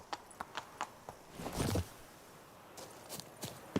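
The horse Roach walking in The Witcher 3: Blood and Wine: crisp, evenly spaced hoof clops, faint and close, with a brief rustling burst in the middle.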